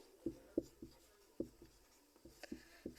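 A hand writes an equation on paper, quiet scratchy pen strokes in short irregular taps and scrapes, close and faint in a still room.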